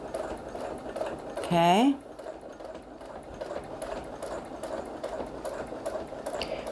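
A sewing machine stitches quilting lines along a seam using a Squiggy ruler, giving a soft continuous motor hum under a quiet indoor background, with a brief rising whine near the start and one short word spoken.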